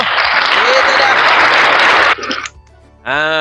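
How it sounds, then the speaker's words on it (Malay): A classroom full of students bursts into dense, loud applause during a secondary-school maths lesson. The clapping runs steadily for about two seconds, then cuts off abruptly, leaving a brief quiet gap before a teacher's voice begins. "Kita beri tepukan gemuruh untuk Adib dulu."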